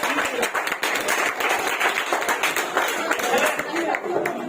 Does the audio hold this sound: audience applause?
yes